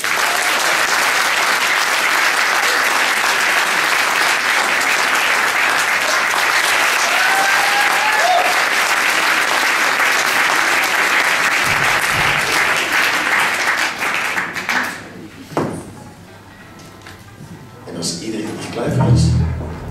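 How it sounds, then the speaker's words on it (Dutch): Applause from the audience at a student concert, a loud, steady wash of clapping that lasts about fifteen seconds before fading, after which a voice speaks and cheers rise again. "Applaus!"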